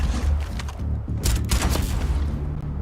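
A rapid burst of gunfire from a weapon in the video game Starfield, several sharp shots rattling in quick succession at close range and fairly loud throughout.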